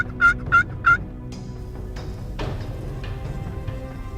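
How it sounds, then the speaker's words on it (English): A wild eastern turkey gobbler gobbles three times in quick succession, loud and fairly close, then the woods fall quiet apart from faint rustling and distant background sound. "There, he gobbled that there."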